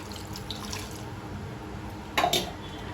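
Quiet background with a brief splash of water, about 200 ml, poured into a pot of mutton for biryani near the end, short and close.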